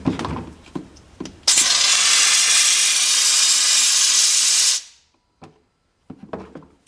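A garden hose fitted with an on-off valve opens into a loud, steady hissing spray into a bucket for about three seconds, then shuts off abruptly, with a few knocks and handling clatter before and after.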